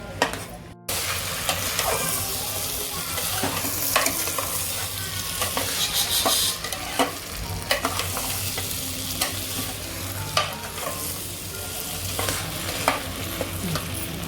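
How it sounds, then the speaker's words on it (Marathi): Rice with lima beans and spice masala being stir-fried in a pan, with a steady sizzle throughout and repeated scraping strokes of a spoon at irregular intervals, close and fairly loud, without talk. "आता हे सगळं चांगलं परतायचं मसाल्यामध्ये चटणीमध्ये"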